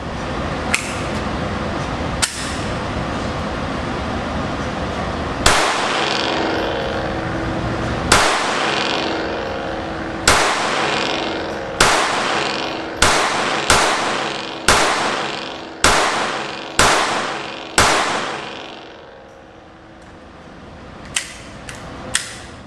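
Glock 44 handgun fired at a range: sharp, loud single shots spaced a couple of seconds apart at first, then quicker in a steady series, each with a short ringing tail.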